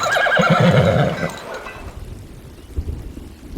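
A horse in the video game Farthest Frontier lets out a loud whinny for about a second and a half, followed by faint rumbling and low background noise.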